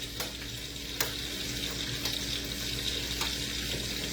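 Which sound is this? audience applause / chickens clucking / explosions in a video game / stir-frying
stir-frying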